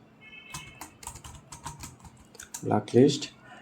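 Quick typing on a computer keyboard, a close run of light key clicks ending in a couple of louder taps.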